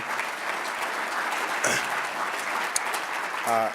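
Applause for former Lieutenant Governor Hager at a Chamber Day panel fills the room in a steady wash of many hands clapping, holding level throughout, with a brief voice near the end.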